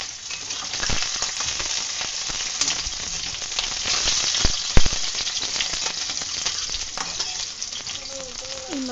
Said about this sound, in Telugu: మీడియం ఫ్లేమ్లో పెట్టుకొని ఇది ఫ్రై చేసుకోవాలి.